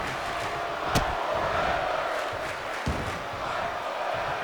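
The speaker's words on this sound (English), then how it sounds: "And the crowd is loving it." Crowd at an SCW Grand Prix pro wrestling event cheering and roaring in a continuous dense wash, with a sharp impact near the start and another thump later, under commentary.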